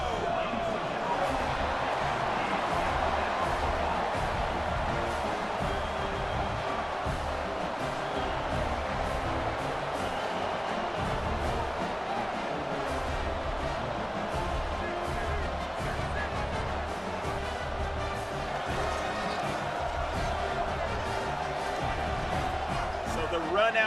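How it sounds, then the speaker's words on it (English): A stadium crowd roars in College Football 26 as an Alabama team runs out through the tunnel, a dense, loud, continuous wash of noise holding steady for the whole stretch. "The crowd is going ham."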